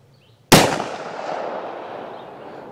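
A .357 Magnum round fired from a Taurus 605 revolver into ballistic gel, heard as one sharp, loud, close crack followed by a long reverberating decay.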